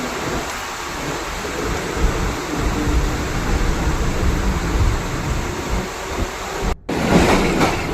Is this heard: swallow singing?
no